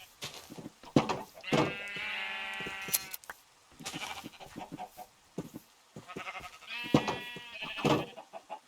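Sheep in the Minecraft video game bleat in several distinct wavering calls, two longer drawn-out bleats standing out among shorter bursts, fairly close and clear against a quiet background with brief gaps of near silence.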